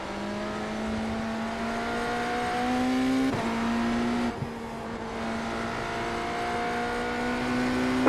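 Hypercar race car engines from a racing video game at the Catalunya circuit, a steady loud high-pitched engine drone holding pitch with brief gear-shift dips, continuous throughout.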